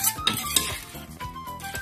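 Tamarind salad being tossed with ground peanuts in a bowl, with repeated clinks and scrapes of a utensil against the dish in an irregular rhythm, close and moderately loud.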